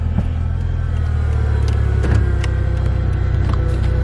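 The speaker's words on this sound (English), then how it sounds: "Automatic driver's side window." The driver's side automatic power window of a 2002 Mitsubishi Lancer Evolution 7 with a 2-liter turbocharged engine runs. A steady electric motor whirs against a low rumble inside the car for about four seconds.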